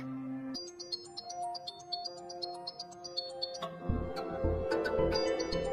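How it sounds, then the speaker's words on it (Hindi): A mobile phone ringtone plays a repeating electronic melody, with thumping bass joining partway through as it keeps ringing. "मेरा फोन बज रहा है"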